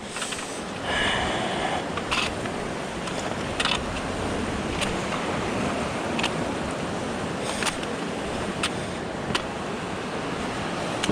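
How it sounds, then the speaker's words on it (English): Surf from ocean waves washes steadily against a rocky stretch of coast on a wilderness hiking trail, with a constant broadband rush and several short sharp clicks or knocks nearby. "Come on, waves, work with me."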